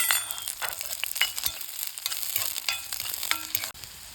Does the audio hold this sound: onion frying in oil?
yes